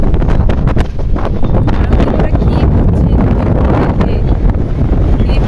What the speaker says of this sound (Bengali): ভীষণ হাওয়া, এইরকম হাওয়ায় উড়ে যাওয়ার মতো কি অবস্থা।